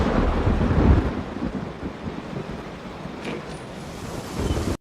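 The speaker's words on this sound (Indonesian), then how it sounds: "Sore hari ketika hujan deras," Heavy afternoon rain pours down in a steady, loud roar, with deep low rumbling suggestive of thunder swelling near the start and again at the end.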